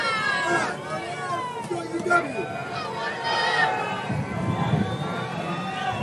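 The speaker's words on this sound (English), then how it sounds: "The crowd's buzzing here as Trainer waits for it." A football stadium crowd at a 1996 playoff game buzzes continuously with mixed chatter and murmur, rising and falling in a broad wash of voices.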